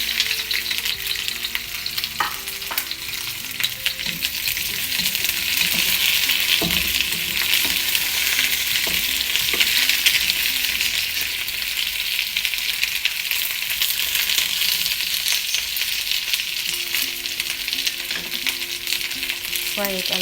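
Garlic and onion fry in a hot pan for a fish and vegetable rice dish, holding a loud, dense sizzle throughout with a few stirring clinks and no talk.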